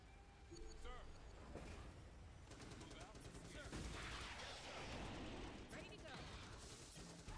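Sniper gunfire in the real-time strategy game Starship Troopers: Terran Command crackles in rapid, overlapping bursts under steady battle noise, with brief voiced unit callouts mixed in.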